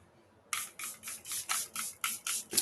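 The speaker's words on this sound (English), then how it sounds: "you can never go without the setting spray, weightless, gorgeous hydration" Makeup setting spray misted onto a face in a rapid series of about eight short hissing pumps, close and crisp after a quiet start.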